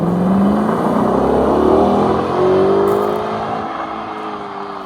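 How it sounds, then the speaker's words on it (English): An Audi R8 sports car engine revs up loudly nearby, its pitch climbing through the gears before settling into a steady roar. "Car sounds amazing."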